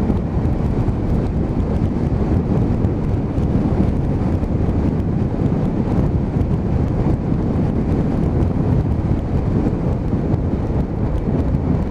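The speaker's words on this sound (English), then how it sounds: "on a very, very windy and cold day like it is today" Loud, steady wind roar buffeting the microphone while riding a CB500 motorcycle on a cold, windy day, a constant low rumble with gusty flutter throughout, no voices.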